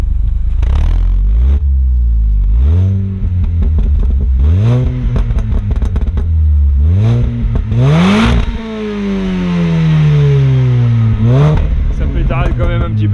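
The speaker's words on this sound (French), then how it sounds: "le son d'échappement c'est d'origine." A Mini Cooper S with its stock exhaust revs repeatedly nearby, the engine note rising sharply and falling back in loud sweeps, with voices faintly underneath.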